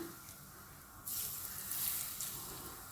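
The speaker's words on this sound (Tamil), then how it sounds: "சூடான எண்ணெயை ஊற்றிக்கிடுவோம்" Hot oil poured over onion pakoda batter sets off a sudden, loud, steady sizzle, with a crackling hiss that swells and carries on after a quiet start.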